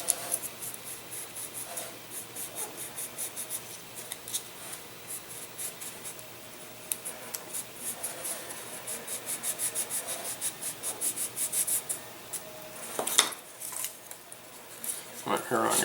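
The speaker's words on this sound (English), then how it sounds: "kind of sand a little bit of a groove in the middle here" Sandpaper rubbing a groove into the body tube of a Carbonette 12 R/C boost glider, a dry scratchy scraping in short, repeated strokes up close, with a few louder scuffs near the end.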